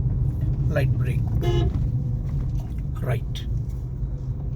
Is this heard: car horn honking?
yes